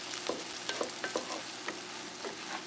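Onions saute in a pan for vegan oxtails, giving a close, continuous crackling sizzle dotted with quick spatula scrapes and spits, fairly quiet and with no talking.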